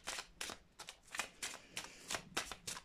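Oracle cards being shuffled by hand in quick, close, soft riffling bursts, about a dozen crisp flicks in uneven rhythm, quiet and alone.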